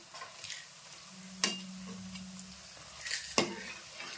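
Onion bajji frying in hot oil for a Nagara Panchami festival meal, a steady low sizzle with two sharp clinks of a utensil against the pan and light stirring scrapes, no talking.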